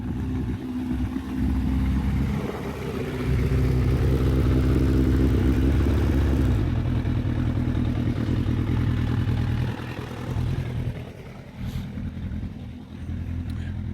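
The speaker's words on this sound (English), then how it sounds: "I'm just going to turn the choke off on the bike." A motorbike engine idles steadily in a garage after the choke is switched off, a low throbbing drone running nearly the whole time with slight dips and some clatter near the end.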